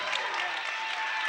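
Crowd applause and cheering fill a women's college basketball gym after a low-post basket by Case Western Reserve's Brooke Orcutt against Emory, a steady dense roar with no break for the whole moment.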